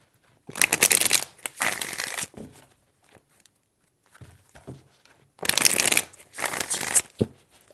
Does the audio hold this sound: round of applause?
no